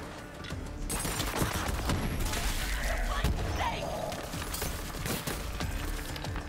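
Sustained gunfire from the shooter game Borderlands 3, dense overlapping shots and mechanical clatter running throughout under faint voice activity, fairly loud and continuous.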